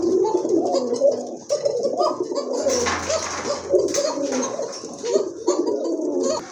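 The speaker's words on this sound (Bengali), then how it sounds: "আরেক জোড়া কবুতর, এটা হচ্ছে আপনার ইয়েলো অ্যালমন্ডের ভিতরে এক জোড়া শর্ট ফেস কবুতর" Several short-faced pigeons, including a yellow almond pair, coo repeatedly with soft, throaty, overlapping calls close by in a loft, forming a steady murmuring bed of sound with no talk.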